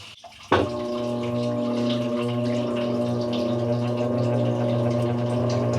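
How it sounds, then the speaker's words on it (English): A Whirlpool top-load washer in self-test diagnostic mode drains and shifts into spin, giving a steady pumping and motor whine with rushing water after a brief clunk, continuous and fairly loud. "Now we're at the drain sequence. Just shift it into spin."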